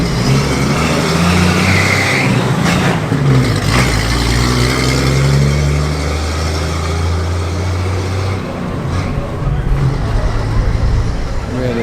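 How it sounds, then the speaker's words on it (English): At a classic car show road run, a six-cylinder classic car drives past, its engine note rising in a loud, close sweep and then fading, with traffic rumbling around it. "Really lovely sounding 6-cylinder there."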